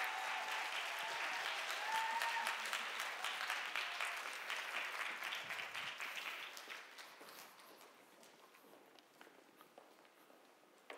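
Applause from a church congregation at a young adults' worship service, a dense even clatter of many hands that stays loud for several seconds, then gradually thins and fades toward the end.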